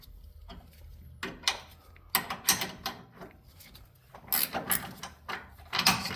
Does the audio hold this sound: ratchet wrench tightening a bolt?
yes